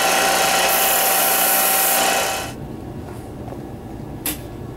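Leather padding for an infrapatellar strap is sanded with a power sander, a loud steady whirring grind for about two and a half seconds, then it winds down to quiet room noise with one small knock near the end.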